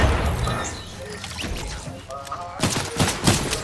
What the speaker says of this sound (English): he's on the hill shooting at him.